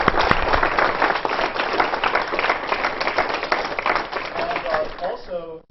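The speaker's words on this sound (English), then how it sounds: "So let's go around for applause for them." An audience at a physics lecture gives sustained applause to the event organizers, dense steady clapping from a roomful of people for several seconds before it cuts off.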